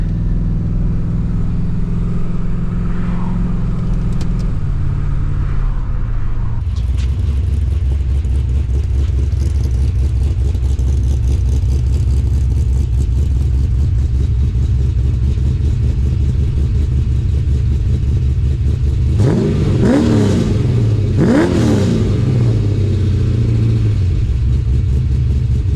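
Holden VN Commodore fitted with an LS1 V8 driving along, a loud, steady low engine drone from inside the car, with a couple of brief revs rising near the end and no talking.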